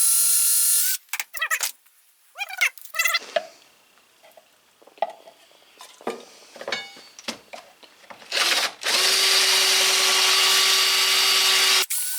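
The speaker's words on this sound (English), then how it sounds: "Go ahead and put it on a corded drill." A corded power drill whines loudly at the start, followed by scraping and knocking of a curved deer antler being handled, then the drill runs again in a long steady whir, boring the antler.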